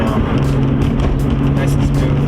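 A Nissan GT-R with newly replaced fuel injectors drives smoothly at low RPM: a loud, steady engine drone with a constant low hum and road noise filling the interior.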